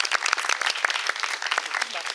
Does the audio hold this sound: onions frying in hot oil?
no